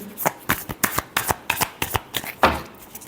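A deck of tarot cards being shuffled by hand: a quick run of crisp, papery flicks and slaps at an uneven rhythm, close and fairly loud, ending with a fuller riffle, with no one speaking.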